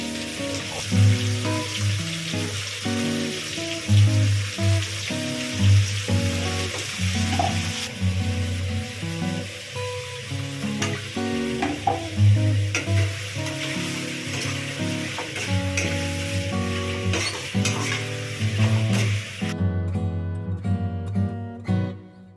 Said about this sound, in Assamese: আমাৰ পৰ্ক ফ্ৰাই কৰি আছে